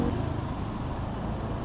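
Rush-hour car traffic on the streets of BGC, Taguig City, a steady low rumble of passing engines and tires, fairly faint and distant, with no talking.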